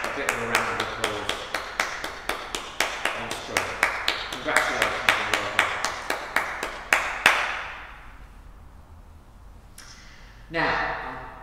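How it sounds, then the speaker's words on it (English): A small church congregation at a Sunday parade service claps in a clear, regular rhythm of distinct hand claps that stops abruptly, followed by near silence and then a brief burst of talk. "we can give them a bit of a round of applause"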